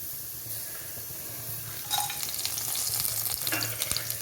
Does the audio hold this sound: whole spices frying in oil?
yes